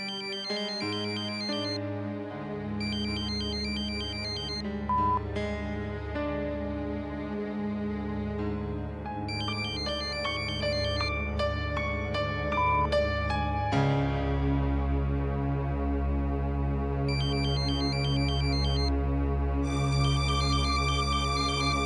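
A phone ringtone plays continuously and loudly in a TV drama scene as a woman calls her sister, a bright repeating electronic melody over a steady musical backing, with no talking.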